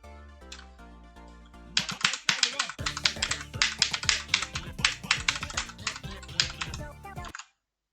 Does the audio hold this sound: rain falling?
no